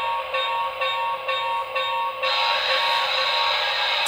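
Bell of an HO scale Broadway Limited Pennsylvania T-1 model steam locomotive with Paragon 2 sound, ringing in about five steady strokes over a constant steamy hiss, then giving way to a louder continuous hiss.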